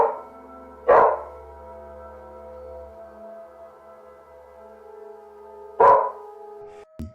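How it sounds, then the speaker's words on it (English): A dog gives two sharp, loud barks several seconds apart, close by, over a quiet background hum. "The dog starts barking"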